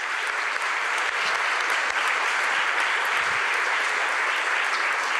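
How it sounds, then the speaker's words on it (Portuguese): Church congregation applauding, a dense, even wash of many hands clapping, sustained and fairly loud throughout, heard from within the crowd. "Vamos aplaudir o Senhor."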